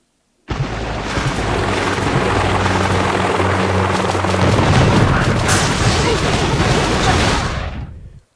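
Heavy and rocket helicopters in the Boom Beach Warships game, a loud, continuous rotor thrum with bursts of gunfire and explosions layered over it, starting abruptly and fading at the end.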